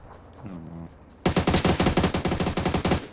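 Rapid automatic gunfire in the PUBG battle royale game, a loud burst of about a dozen evenly spaced shots after a quiet stretch with a brief tonal game sound.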